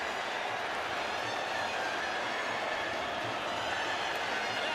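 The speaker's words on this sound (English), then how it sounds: "And the Puma supporters celebrate in the crowd." Argentina rugby supporters cheering in a packed stadium at a Rugby World Cup match against France, a dense, constant roar of crowd noise with no distinct voices standing out.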